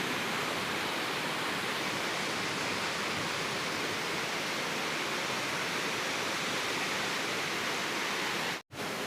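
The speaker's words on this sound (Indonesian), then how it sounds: "Ini hujannya nggak kunjung mereda, teman-teman, malah semakin deras. Arusnya juga semakin kencang, semakin tinggi." Heavy rain pours alongside a fast, swollen river current at a bridge over Kali Srengseng in Tambun. A dense, steady rushing hiss fills the whole stretch and briefly cuts out near the end. No one speaks.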